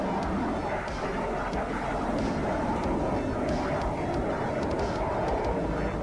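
Jet aircraft engine roaring steadily at a carrier launch from the Kuznetsov in a naval combat game, a loud continuous rumble with faint voice chatter underneath.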